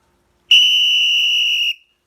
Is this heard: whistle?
yes